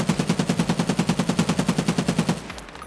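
SCAR-L rifle firing full-auto in Escape From Tarkov: a steady, rapid string of about two dozen evenly spaced loud shots lasting over two seconds, then a brief fading tail.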